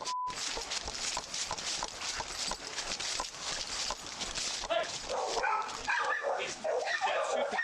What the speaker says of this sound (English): they rush toward the sounds of barking coming from the backyard